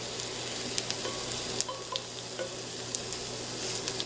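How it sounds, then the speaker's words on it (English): Mushrooms frying and browning in a pan for Salisbury steak, giving a steady soft sizzle with scattered small pops and crackles, close and fairly quiet, with no talking. "My mushrooms, I like them to get nice and browned, and both sides,"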